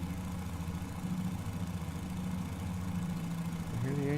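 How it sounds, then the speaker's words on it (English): Engines of a Fokker F.VII trimotor in a flight simulator game give off a steady, droning mid-low hum with a continuous tonal throb. It holds fairly even throughout and rises slightly in pitch near the end. "You hear the engines now?"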